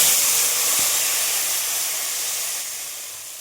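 Garlic and tamarind sauté in a pan with a steady, close steamy hiss that fades gently, no voices.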